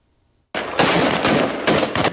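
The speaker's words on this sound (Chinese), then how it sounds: "黎巴嫩南部枪炮声四起" Bursts of gunfire in southern Lebanon during Israeli armored brigade operations against Hezbollah: a sudden loud burst after silence, followed by dense sustained cracking with several sharper volleys spaced through it.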